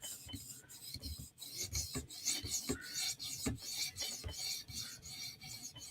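A custom Para 3 knife is sharpened on a TSProf Kadet with steady, rhythmic forward strokes: a close, continuous gritty rasp that rises and falls with each pass, with no talking.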